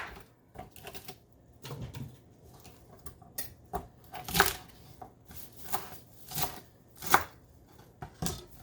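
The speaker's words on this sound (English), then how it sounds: "Chop this up a little bit." A kitchen knife chops pre-washed vegetables for homemade vegetable stock, sounding as a steady, slightly irregular run of crisp taps on a cutting board, close and clear with no talking.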